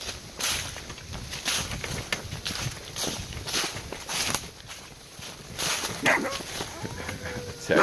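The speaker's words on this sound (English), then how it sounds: "dogs." A dog barks in short, repeated bursts nearby, mixed with footsteps and some background voices.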